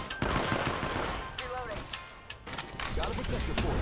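Video game gunfire aimed at a Valkyrie, rapid machine-gun bursts in a loud, busy battle mix, with a player's voice talking over the shooting.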